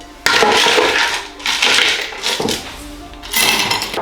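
Ice cubes tumble and rattle in a cocktail glass being chilled for a mezcal margarita, loud, close, crunchy clattering in several bursts.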